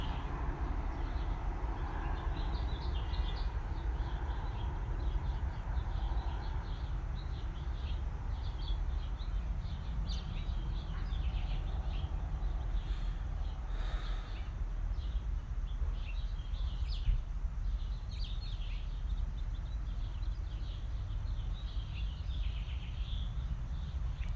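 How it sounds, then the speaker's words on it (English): Birds chirp and sing faintly and intermittently in a backyard over a steady low rumble of distant background noise, with no voices. "Sitting in the backyard, I hear a lot of the birds."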